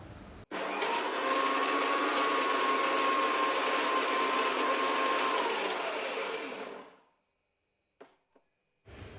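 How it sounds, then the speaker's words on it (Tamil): A kitchen mixer grinder runs loud and steady for about six seconds while grinding ginger chutney with jaggery, carrying a whining motor tone, then it winds down and stops, followed by a couple of faint clicks. "சட்னி எந்த அளவுக்கு வலுவலுன்னு அரைச்சி எடுத்துக்கோங்க"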